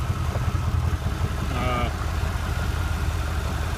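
A 1991 Chevrolet Caprice engine idling with a steady low rumble on its first start of the year, while a voice speaks briefly over it.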